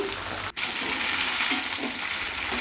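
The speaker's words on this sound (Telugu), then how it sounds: "వేసుకొని పచ్చిమిర్చిని వేసుకొని వేయించుకోవాలి." Green chillies fry in hot oil with a loud, close, continuous sizzle, broken briefly near the start by a short gap.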